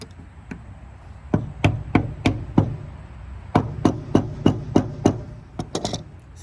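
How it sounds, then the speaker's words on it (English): A green spool insert is hammered into an Echo Speed Feed trimmer head with sharp, close knocks landing in quick, uneven bursts, separated by short pauses. "we're gonna hammer it back in"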